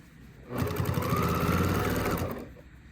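Sewing machine running a steady continuous stitch along the edge of fabric while seaming a boxed bag made from a placemat; a single sustained burst of about two seconds, loud and close, with no talk.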